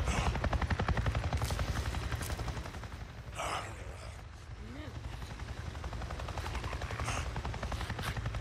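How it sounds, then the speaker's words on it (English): A helicopter in the game Days Gone beats out a loud, steady rotor thump, with a few sharp bursts breaking through before the rotor noise settles back in. "I just saw a goddamn chopper!"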